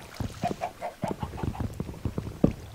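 Chickens in a Minecraft-style game cluck in quick, fairly close bursts, several short calls in a row with a louder one near the end, no talk.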